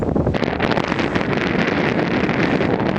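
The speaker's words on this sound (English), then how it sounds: "So it is extremely windy and cold up here at the crater rim" Strong, steady wind roars and buffets the microphone without letup on the crater rim of Mount St. Helens, a loud continuous rush filling the whole stretch.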